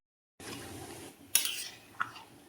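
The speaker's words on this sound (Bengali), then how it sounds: "মশলাটা ভালো করে কষে নিই" Masala for Bengali chicken kosha being stirred and fried in a pan, a steady soft sizzle broken by a couple of sharp scraping clinks of a spoon against the pan, close and fairly quiet.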